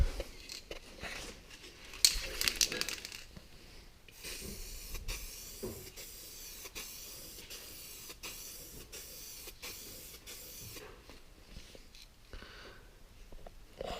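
Clear coat sprayed onto an old snowmobile, a spray gun hissing in repeated short bursts with brief pauses between passes, fairly faint, after some rustling handling noise at the start.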